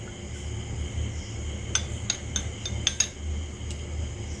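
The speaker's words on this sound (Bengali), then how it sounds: "দিয়ে চামচ দিয়ে ভালো করে চারিপাশটা লাগিয়ে দিতে হবে ডিমটা" A spoon spreads beaten, lightly salted egg over a roti for an egg roll, giving a handful of light metallic clinks and taps scattered over a low kitchen hum.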